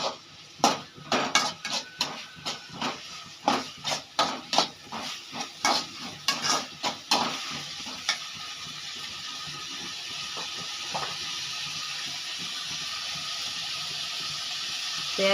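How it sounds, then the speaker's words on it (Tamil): Onions sautéing in a pan for a Tamil-style egg fry, with a run of rhythmic utensil scrapes and clatters for about eight seconds, then a steady soft sizzle continuing alone. "நல்லா வதங்கட்டும்."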